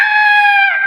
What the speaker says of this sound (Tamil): இந்த சேவலுக்கு கூதான்னு பார்ப்போம்.